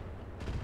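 Mech weapons fire in the video game Roguetech, a dense, rumbling burst of booming shots with a sharper blast about halfway through, loud and continuous over the short span.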